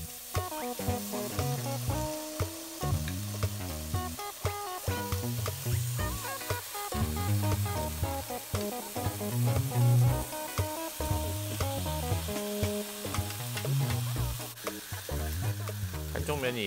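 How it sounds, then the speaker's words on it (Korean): Pork belly sears in a hot pan, a continuous sizzle and spatter running under steady background music for the whole stretch. "삼겹살을 겉만 살짝 구워줍니다."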